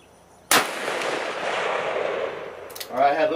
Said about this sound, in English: See, this is the Hornady 454 Casull jacket hollow point 300 grain. Okay, that's what we're shooting. With the Taurus Raging Hunter and 454 Casull.